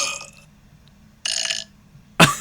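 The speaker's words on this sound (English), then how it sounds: "Is that a burp?" A close, throaty burp, preceded by a couple of shorter gulping bursts and separated by brief quiet gaps.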